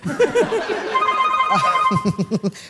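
A telephone rings with repeated bursts of trilling electronic tones on a television comedy show, interleaved with chuckling and murmuring voices nearby.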